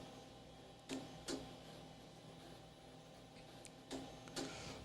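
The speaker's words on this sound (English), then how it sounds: "the clunking all sounds like the printer's clunking" Faint, intermittent clunks from a printer attached to an old Data General computer system, a few separate mechanical knocks spaced about a second apart over a low steady hum.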